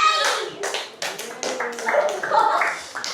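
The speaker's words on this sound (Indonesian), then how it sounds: "Tepuk tangan" Students clap their hands in a classroom during a quiz game, a burst of uneven, overlapping claps and taps close by, mixed with voices and cheering.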